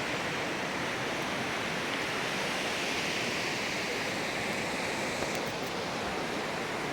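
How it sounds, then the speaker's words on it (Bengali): A hill river's current rushes under a bridge, making a steady, broad roar of flowing water that fills the whole stretch without a break and with no voices. "ওই দেখুন নদীর জলের স্রোতটা ব্রিজের নিচে দিয়ে কীভাবে যাচ্ছে জলের বেগটা"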